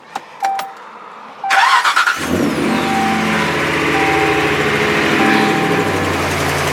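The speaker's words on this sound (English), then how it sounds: "So this is the startup." A car engine with a Rough Country cold air intake cranks and fires up, a sharp surge of revving followed by a steady, loud idle that drones on close by, preceded by a few faint clicks.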